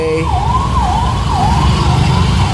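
A loud ambulance siren wails in a repeating rising and falling pattern while stuck in heavy festival traffic at the Rajkot bus stand, with engine and traffic rumble beneath it.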